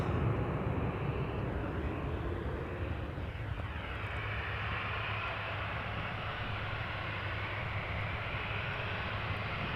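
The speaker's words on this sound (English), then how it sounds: "This Embraer 175, 7 years old, first flight July 2016." A seven-year-old Embraer 175 jet at Amsterdam Schiphol Airport produces a fairly faint, distant engine rumble and hiss that holds steady with a shifting tone, no voices present.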